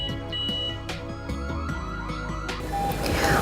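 A home alarm system's indoor siren cycles through warbling, chirping tones, loud and close, ending in a burst of noise.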